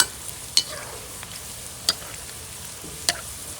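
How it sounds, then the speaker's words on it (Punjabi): Pakoras fry in hot oil for Punjabi kadhi pakora, a soft continuous bubbling hiss broken by three sharp clinks spaced over a few seconds, close and without talk. "ਪਕੌੜੇ ਆਪਣੇ ਪੱਕਣੇ ਸ਼ੁਰੂ ਹੋ ਗਏ"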